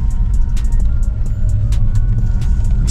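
Mercedes-Benz S550 4MATIC with its 5.5 V8 rumbling steadily while driving, a low constant drone with light ticking road noise, no talk.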